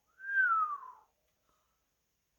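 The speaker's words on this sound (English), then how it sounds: "Alfred gave a low whistle." A single low whistle, rising briefly then gliding downward in pitch over about a second, heard alone and close against near silence.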